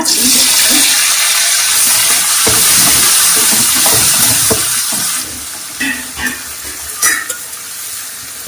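Tomatoes and whole green chilies frying in a pan for a Chettinad pepper prawn dish, a loud, continuous hiss of sizzling oil with stirring scrapes, easing and growing patchier toward the end.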